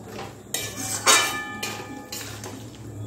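A metal spoon stirs chicken in a pot for Bengali chicken kosha, scraping and clinking against the pot in irregular close strikes, with no talking.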